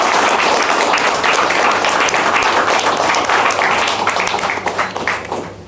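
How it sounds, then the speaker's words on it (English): A hall audience bursts into loud, dense applause to celebrate exam results, sustained clapping that thins out toward the end. "So a great round of applause for the result."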